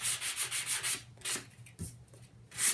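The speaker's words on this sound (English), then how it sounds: "just take a piece of sandpaper" Sandpaper rubs along the cut edge of a cover in quick, close back-and-forth strokes, then a few slower, separate passes with short pauses between them.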